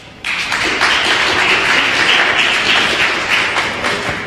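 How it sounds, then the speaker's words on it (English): Applause from an audience at a talk event bursts in abruptly after a short silence and holds as a steady, dense wash of clapping. "Can we give him a round of applause?"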